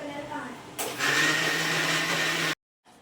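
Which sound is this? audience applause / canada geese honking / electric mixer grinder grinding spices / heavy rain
electric mixer grinder grinding spices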